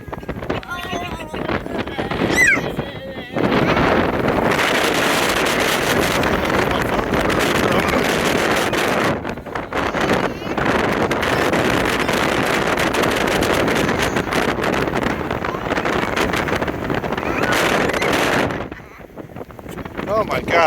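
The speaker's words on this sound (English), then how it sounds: "Is it windy, Heather?" Strong wind roars across the top of Currituck Lighthouse, buffeting the microphone in loud, continuous gusts that drop out briefly near the start and again around the middle before surging back.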